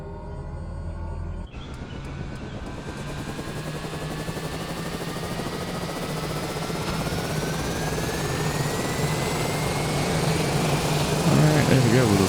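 An aircraft engine in a flight simulator game starts with a sudden whine, then throttles up into a rising, steadily louder turbine roar with climbing tones, while someone talks over it.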